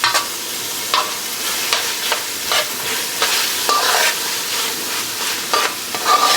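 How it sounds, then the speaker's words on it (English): Tomato paste cooks down in hot oil with a steady, close sizzle, broken by frequent scraping strokes of a spoon stirring the pan throughout. "So that's our tomato paste that we got in there. And we're just going to bring the oils out of it."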